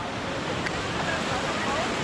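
A river in Rishikesh, India, with people swimming in it, rushes in a steady, dense roar of flowing water that is heard close and loud throughout, mixed with a little wind.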